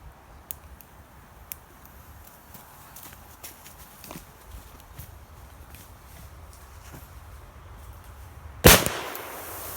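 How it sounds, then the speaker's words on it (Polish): A firecracker goes off in sand outdoors: after a long stretch of quiet ambient noise with faint scuffs and footsteps, one sharp, loud bang near the end, followed by a brief fading rush. "Druga petarda chyba nie wypaliła, ale ta pierwsza strzeliła naprawdę fajnie."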